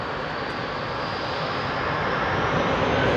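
Jet engines of a Qatar Airways Boeing 777 spool up for a night departure at Heathrow, a dense, steady roar that swells slightly louder toward the end, close and alone.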